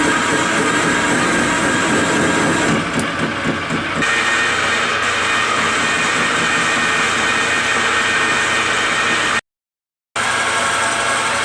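A lathe takes a heavy dry roughing cut on a pulley with a carbide tool, giving a loud, steady machining roar with grinding texture that runs throughout and drops out briefly near the end.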